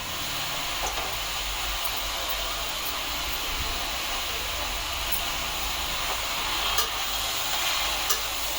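A spinach (palak) mixture fries in a pan while being stirred, giving a continuous, even hiss and sizzle with faint scraping throughout, fairly loud and close, with no voices.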